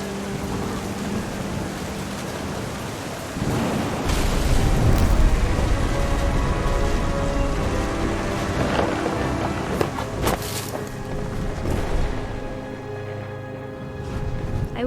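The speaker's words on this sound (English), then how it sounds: "The thunder sounded much too close and full of angry power." Steady rain falls in the video game What Remains of Edith Finch, swelling under a deep rolling thunder rumble and then a sharper crackling thunder burst later, with no voices.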